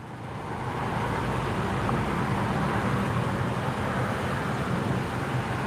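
Steady car engine drone with road rumble from inside a moving vehicle, continuous and even after a brief fade-in, no talking.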